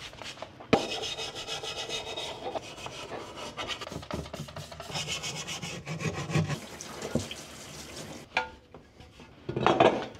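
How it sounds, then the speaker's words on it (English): Hand scrubbing on a BMW S54 engine part during an E30 M3 engine restoration, with close, irregular rubbing and scraping strokes, occasional sharp metallic knocks and clatters, loud and alone with no talk. "I'll try a little scrubbing by hand"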